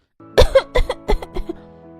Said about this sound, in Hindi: देख कितनी खांसी हो रखी है इसको।